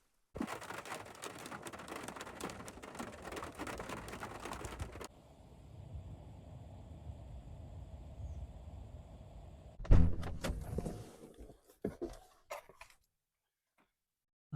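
Steady hiss of thunderstorm rain pattering down at a remote abandoned airstrip for several seconds, then a quieter patch, followed by a few sharp knocks and rustles before it falls silent.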